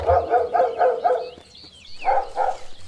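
A dog barking in the video game Grunn, a quick run of five sharp barks, a short pause with a whine, then two more barks, close and loud.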